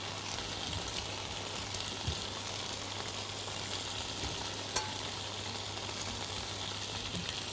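Steady sizzling of vegetables sautéing in a pan, a continuous crackling hiss with a low hum underneath and occasional soft clinks.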